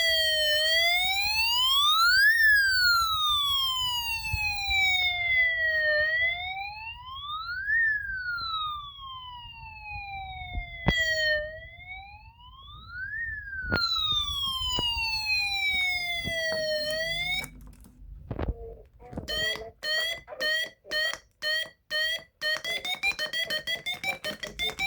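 A Snap Circuits fire alarm siren wails in rising and falling sweeps, with a second unit sounding alongside, then shifts to a rapid pulsing electronic warble; the sound is close and fairly loud.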